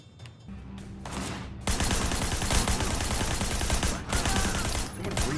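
Sustained automatic gunfire in Sleeping Dogs during a shootout near a market: a short, quieter lead-in gives way to loud, continuous rapid shots with a few brief lulls.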